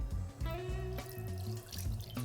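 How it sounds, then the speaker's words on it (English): Chicken stock poured from a measuring jug back into a cooking pan while making a healthy chicken pie, a close, fairly quiet liquid splashing and gurgling that shifts in pitch as the pour continues. "And then I'm going to pour that back into the cooking pan."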